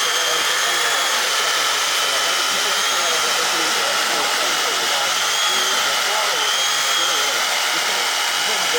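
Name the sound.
power screwdriver driving screws in straw wall construction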